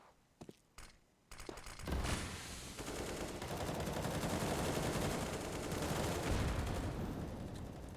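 Rapid gunfire from a Counter-Strike match on Dust2 between Nemiga and NAVI, a sustained loud stream of overlapping shots that follows a few sharp isolated bursts at the start.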